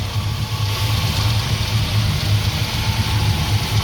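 A smoky old Dodge engine idling on its carburetor, which runs on a brake-cleaner-soaked filter while the fuel pump refills the bowls, giving a loud, close, steady low rumble with a slight rhythmic pulse and no speech.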